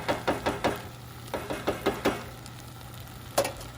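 Spoon scraping and knocking against a pot while stirring spicy sausage and mushroom risotto at a rainy tent campsite, two quick bursts of rhythmic taps then a single clack, faint and close over a steady low hum.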